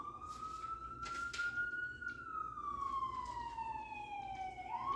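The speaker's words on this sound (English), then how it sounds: "that's just a cop putting on his siren so he can run a red light" A police car siren wails nearby, one long tone slowly rising and then falling over several seconds, above a steady hum of room and street noise with no talking.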